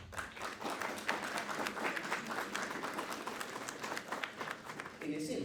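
Audience at an international law seminar applauds a speaker, a dense steady patter of many hands clapping throughout, moderately loud in a hall.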